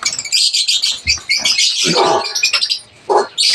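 Pet lutino and opaline budgerigars chirp and chatter continuously in a dense, bright flock, close and loud, with a few lower squawks and brief pauses near the end.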